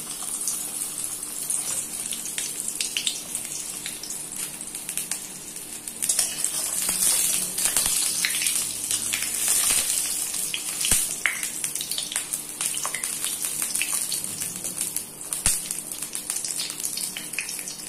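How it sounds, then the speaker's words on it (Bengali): Pointed gourds (potol) frying in hot oil before stuffing, a steady, close hissing sizzle with crackling bursts that runs the whole time, growing busier midway, with no talk over it. "এই পটলগুলো আগে ভালো করে ভেজে নেব"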